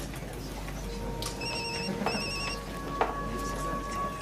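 A telephone rings in two short bursts of bright electronic trills over a faint indoor background hum, with a soft knock near the end.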